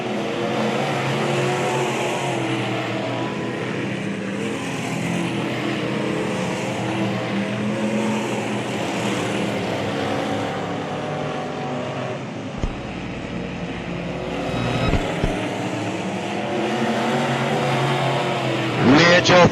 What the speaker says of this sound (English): Mitchell Franklin, your leader in the F1, coming up on lap traffic